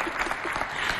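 A brief burst of audience applause at a school show, a dense wash of clapping heard briefly at moderate loudness.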